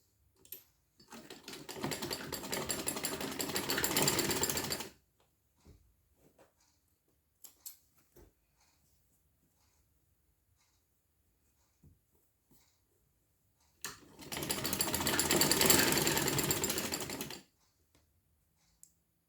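A sewing machine stitches along both sides of a cloth sleeve in two steady bursts of a few seconds each, with quiet handling noises in the pause between them.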